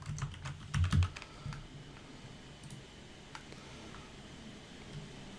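Someone types a name on a computer keyboard, a short run of close key clicks followed by a few sparse taps over faint room hiss.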